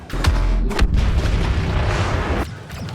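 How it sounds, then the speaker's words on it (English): A heavy, booming thermal imploder grenade blast from a Star Wars Battlefront game erupts with sharp cracks at the start, then a dense, roaring rumble that sustains for a couple of seconds before cutting off. "Thermal imploder is probably one of the best sound effects ever."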